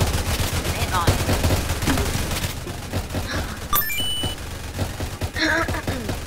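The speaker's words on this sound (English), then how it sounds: "He's using a gun?" Rapid bursts of gunfire from towers mowing down zombies in the Roblox game Tower Defense Simulator, dense and continuous with scattered game chimes and effects layered over the shooting.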